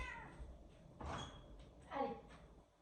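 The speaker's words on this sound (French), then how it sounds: "Je vais ouvrir à mon chat parce qu'elle va nous casser les oreilles." An indoor cat meows twice at a door, each call a short rising-falling cry about a second apart, fairly close and quiet, with faint door sounds around it.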